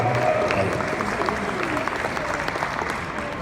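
A convention audience at a Master Chief Q&A panel claps in a sustained, dense round of applause that fills the hall evenly, with faint speech underneath.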